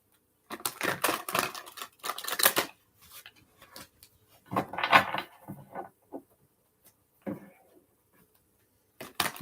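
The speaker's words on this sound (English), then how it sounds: "Let's give it a couple shuffles." Tarot cards are shuffled in a few close, crisp bursts of riffling and tapping, separated by short quiet pauses.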